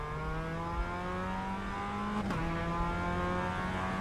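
A Mazda MX-5 race car engine in the iRacing sim drones at steady high revs with rich harmonics, dipping briefly at a gear change partway through, then holding a constant pitch.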